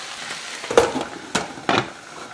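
Beef and sweet potato stir fry sizzling in a pan, a steady close frying hiss broken by three sharp scraping stirs of a utensil against the pan, with no talking.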